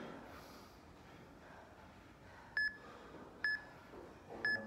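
A workout interval timer gives three short, sharp electronic beeps about a second apart, clear above a quiet room hiss with no talking.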